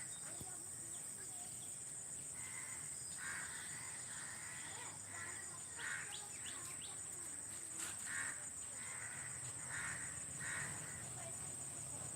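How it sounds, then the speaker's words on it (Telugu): Crows caw repeatedly at a distance over a steady high insect drone at sunset, many birds gathering and calling in scattered bursts across a noisy outdoor scene. "ఇంకా కాస్త ఆగితే ఇంకా చాలా బాగా వస్తాయండి ఇప్పుడు ఇప్పుడే చేరుకుంటున్నాయి పక్షులన్నీ"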